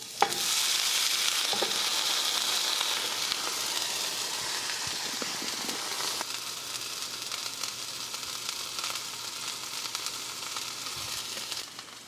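Hamburger steak patties with a seasoning rub searing in a hot pan, a loud steady sizzle and hiss that holds for several seconds with a few faint knocks, no talk.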